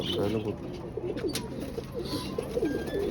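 Low, wavering cooing from a pigeon rolls on steadily at close range over a background hum, with a voice close by.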